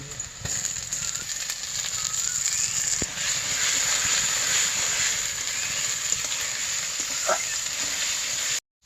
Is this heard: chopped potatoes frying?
yes